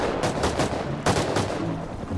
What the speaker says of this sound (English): Oh my god, I've been shooting heli.